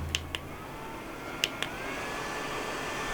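A handheld rechargeable air-conditioning fan with a cooling mode switched on, giving a few short button clicks followed by a steady, close whirring airflow hum.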